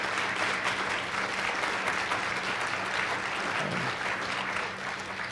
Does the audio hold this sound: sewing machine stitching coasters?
no